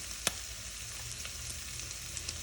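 Chipotle chili paste made with ground guajillo and ancho chilies frying in a pan, a steady close sizzle with one sharp crackle near the start and faint stirring scrapes.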